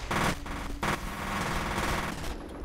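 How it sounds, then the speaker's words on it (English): Gunfire in the shooter game FEAR: sustained automatic weapon fire with a couple of louder bursts near the start, steady and dense through the rest. "What are you guys shooting at?"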